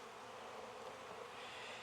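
Honeybees buzzing in a steady, dense drone close by as they are shaken off a hive frame into a box or bucket, continuous with no talk.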